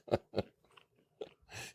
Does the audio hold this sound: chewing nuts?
yes